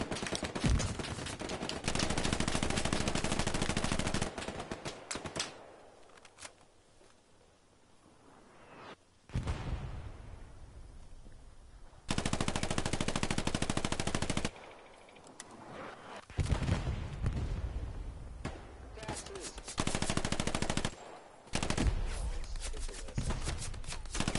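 Sustained machine gun covering fire, long loud bursts of rapid shots broken by short pauses and quieter stretches, then more bursts and scattered single gunshots.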